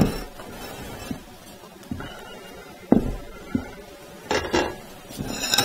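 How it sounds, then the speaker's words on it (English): A utensil scrapes and taps against a bowl while lemon chiffon cake batter is folded and mixed, with scattered knocks and clinks spaced a second or so apart over a low kitchen background. "make sure you go all the way to the bottom and get all of the batter from the bottom"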